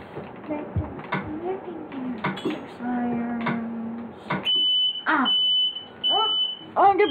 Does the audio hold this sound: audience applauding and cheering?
no